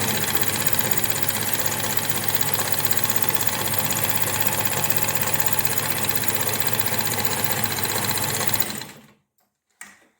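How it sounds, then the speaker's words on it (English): A sewing machine stitches a side seam of a small cloth gift bag with a fast, steady mechanical whir, then stops abruptly near the end, followed by a brief click. "stitch the other side seam also in the machine"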